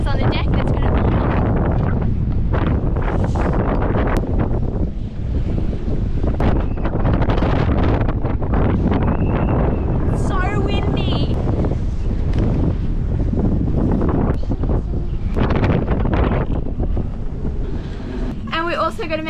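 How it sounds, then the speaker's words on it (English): Strong, steady wind roars across the microphone aboard a sailboat, with gusts and rattling underneath and people talking throughout. "So when it's super windy, we've got to make sure nothing flies off the boat"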